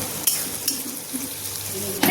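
Onion added to hot oil with ginger and garlic for momos, a steady sizzle of frying with a few sharp scrapes of a spatula against the pan.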